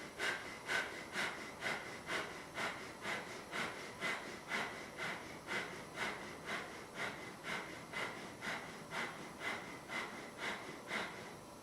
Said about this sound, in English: do the breath of fire